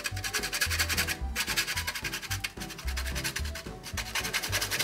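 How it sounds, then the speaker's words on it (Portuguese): Whole nutmeg rubbed against a grater in a kitchen, a close rhythmic rasping of repeated strokes with brief pauses between them. "a gente vai ralar um pouco de noz moscada"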